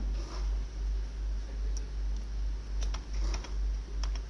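PHP code being typed on a computer keyboard: a run of soft, fairly close key clicks in uneven bursts over a low steady hum.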